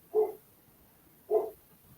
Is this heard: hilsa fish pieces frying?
no